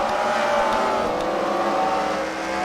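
A race car drives on an oval track at a Fight Night main event, its engine a continuous loud droning roar with a rising pitched whine, steady throughout and close by.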